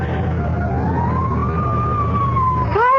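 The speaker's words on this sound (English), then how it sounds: "Fire engine?" A fire engine siren wails in a radio drama, one long rising and falling tone over a steady engine drone, then the start of a second siren sweep.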